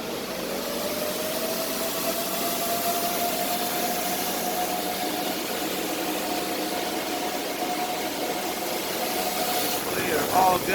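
Cooling fans spinning on crypto mining rigs in a mining farm make a steady, broadband whir with a faint whine that holds throughout, and a short burst of other noise comes near the end.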